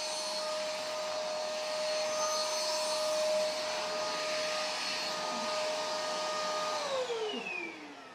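A Beldray Cordless Quick Vac Lite sucks up oats from carpet, giving a loud, steady high-pitched whine that holds close and continuous before dropping in pitch and winding down at the end.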